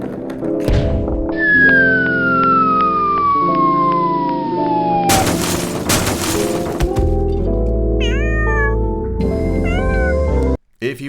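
Several short cat meows come in quick pairs over busy electronic music, following a long falling siren-like sweep and a crash.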